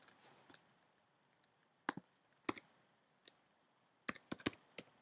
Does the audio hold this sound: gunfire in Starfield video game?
no